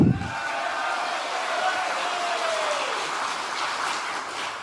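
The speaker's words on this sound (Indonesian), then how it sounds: "Tepuk tangan lagi." A crowd applauding steadily for several seconds, a dense wash of clapping at close range with no pauses.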